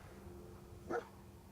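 A single short, soft bark from the dog companion in Fallout 4, brief and fairly close, over a quiet ambient hum.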